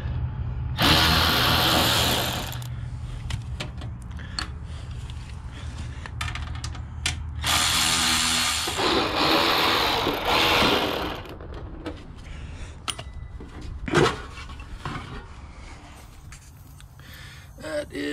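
A power drill removes the screws from an outdoor AC unit's cover in several short, loud whirring bursts separated by quieter handling noises and clatter.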